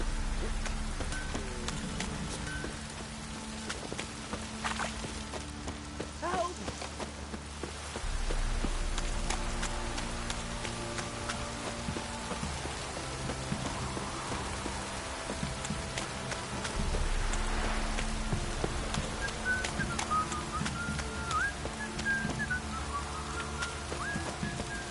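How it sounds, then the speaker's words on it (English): Heavy rain pours down in The Witcher 3 video game, a steady dense patter that swells in two louder bursts, with no voices over it. "This downpour's a bastard, it is."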